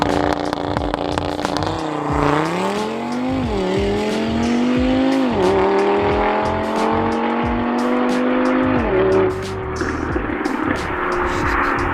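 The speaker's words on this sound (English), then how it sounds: "Thing sounds like a freaking Audi R8, and it's a 5-cylinder." A tuned Audi RS3 five-cylinder launches and accelerates hard, the engine note climbing through several gear changes with brief dips between shifts, loud and close with a raspy, warbling tone.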